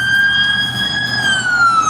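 A siren wails outside, a steady high tone that slowly drops in pitch, loud and continuous over a low rumble of traffic, with no voices.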